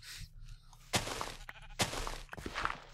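Minecraft sheep bleat in short, repeated calls close by, several in a row with brief gaps, over a quiet low background hum.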